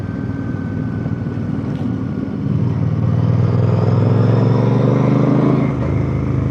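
A Chinese-made motorcycle being ridden, its engine droning steadily up close, then pitching up as it accelerates and holding a louder, rising hum before easing off near the end.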